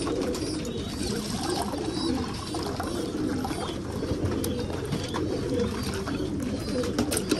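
Pigeons coo softly in repeated low, throaty calls while drinking water, close by, with small clicks and scratchy background noise running throughout and no voices.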